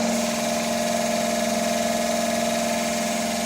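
A fuel pump test bench running at 1250 RPM gives a steady, continuous mechanical hum with a fixed pitch, close and unchanging throughout.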